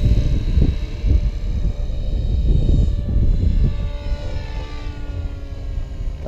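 A professional remote-control helicopter's motor whines steadily in flight, with pulsing low rotor thumps and a faint shifting tone as throttle eases, fairly close and without talk.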